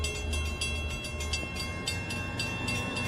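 A train approaching, heard as a continuous low rumble of rolling wagons with repeated clacking pulses across the track, steady and fairly close, with no voices.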